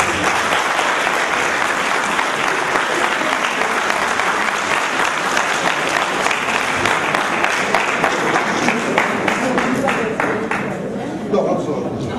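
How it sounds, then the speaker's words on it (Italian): Loud, sustained applause from a large crowd at a literary festival award ceremony fills the whole stretch, dense and even, with a slight thinning near the end. "fate il mio applauso"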